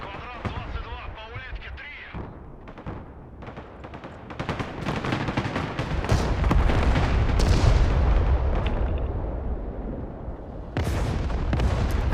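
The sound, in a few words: TOS-1 rocket artillery firing in video game Broken Arrow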